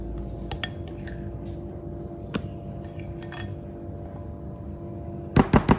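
Chocolate cream cheese dessert-box filling mixed in a bowl, heard as soft clinks and scrapes of utensil on bowl over a steady low hum, with a quick run of three sharp, louder knocks at the end.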